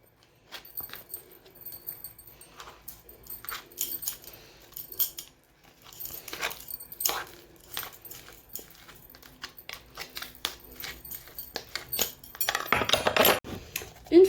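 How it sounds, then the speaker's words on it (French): A fork mashes banana in a bowl for pancake batter, making irregular clinks and scrapes against the dish that build to a busier, louder burst near the end. "il faut prendre une fourchette pour écraser la banane"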